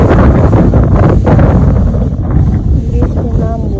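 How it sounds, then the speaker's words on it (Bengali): Strong wind buffeting the microphone as rain begins outdoors, loud gusty rushing throughout with a voice speaking over it. "বৃষ্টি নামবো, ফুটা ফুটা বৃষ্টি পড়ছে, আর অনেক বাতাস।"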